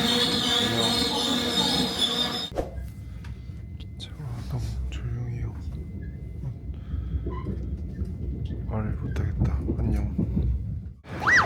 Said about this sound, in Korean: 기차가 오고 있습니다.